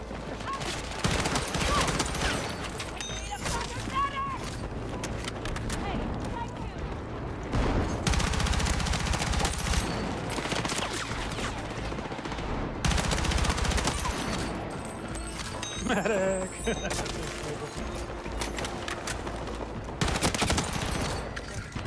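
Bots in a video game fire bursts of gunfire, rapid rattling volleys that start and stop repeatedly at moderate loudness, with talk now and then.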